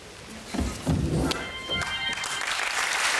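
Studio audience applause on a German late-night TV show, a broad wash of clapping swelling in after a few thumps and muffled voices and holding steady to the end.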